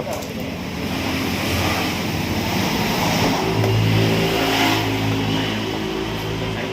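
A car engine revs steadily at high speed up to the rev limiter with a droning, buzzy tone, mixed with a broad rush of wind-like noise.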